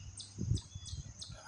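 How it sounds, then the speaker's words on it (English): Bird repeating a short, high chirp near power transformers, sounding cricket-like; four evenly spaced calls ring out against a low transformer hum and rumble. "Oh, listen to the repeater bird here."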